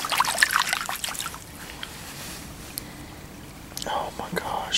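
Soft splashing and trickling as a stone arrowhead is washed in creek water, brief bursts of dribbling water at the start and end with quiet murmured voices nearby.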